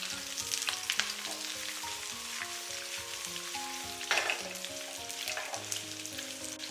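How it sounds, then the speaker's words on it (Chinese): Cut water bamboo is stir-fried in a wok over medium-low heat, giving continuous close sizzling with intermittent scraping as the pieces are tossed and turned. "再把切好洗净的茭白给它倒入锅中，开中小火，不停的给它煸炒"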